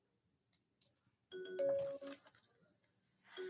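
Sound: incoming call ringtone

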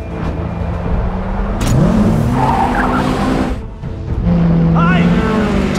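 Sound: race car skidding with tires squealing during crash

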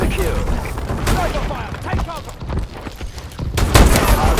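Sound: sniper gunfire in Call of Duty: Advanced Warfare video game

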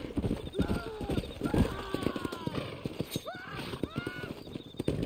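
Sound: horse in Red Dead Redemption video game

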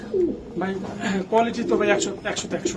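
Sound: pigeons cooing

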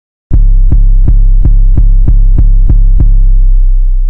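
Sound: 808 bass with distortion plugin

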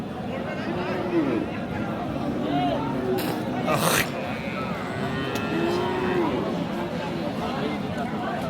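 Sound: cattle mooing at livestock market

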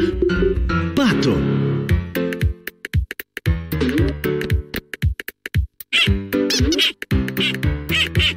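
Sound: cartoon duck quacking

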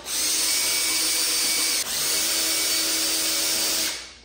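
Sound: removing T25 windscreen bolts on a BMW S1000RR motorcycle

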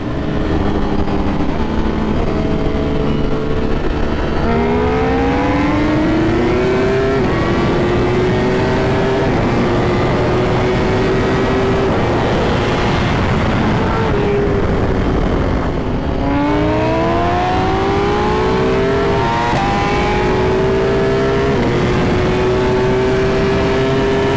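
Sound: Ducati Panigale V4 R motorcycle accelerating through gears

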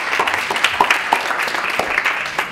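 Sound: applause

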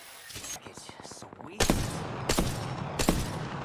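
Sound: rapid gunfire from a fast-firing gun in a video game

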